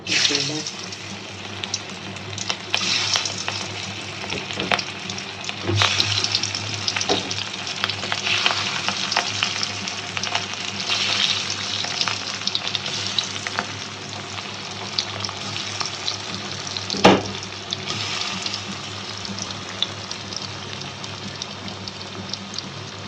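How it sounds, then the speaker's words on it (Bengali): Hilsa fish fry in hot oil with a steady, loud, bright sizzle that runs throughout, a few clinks and knocks from the pan, and a voice talking now and then. "তেল গরম হয়ে গেছে, মাছ দিয়ে দিলাম।"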